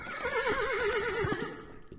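Horses neighing in the video game The Supper: a loud, close whinny with a wavering, quavering tone that lasts most of the moment and fades into soft hoof-like knocks at the end.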